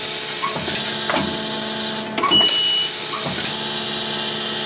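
A Haeger HP-6-C press installs fasteners into a part, a steady mechanical hum broken by several regular thumping press strokes, close and loud with no talk.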